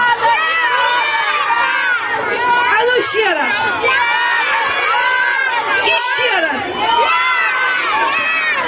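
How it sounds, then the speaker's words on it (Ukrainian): A crowd of young children at an ice cream party shouts their names all together, a loud overlapping burst of high voices and babble, while someone briefly speaks to urge them on again. "разом прокричимо своє ім'я"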